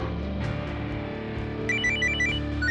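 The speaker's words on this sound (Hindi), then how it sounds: "अरे फोन किसका?" A phone ringtone chimes with a bright repeating electronic melody over a steady background hum, growing louder toward the end.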